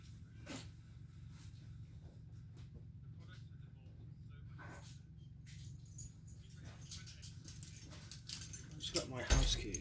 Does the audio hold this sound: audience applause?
no